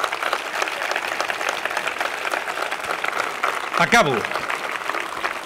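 Crowd applause at a political rally in Tarragona rolls on steadily while a speaker keeps talking over it into the microphone, with a brief louder burst near the end.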